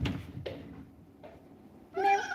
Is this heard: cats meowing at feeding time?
yes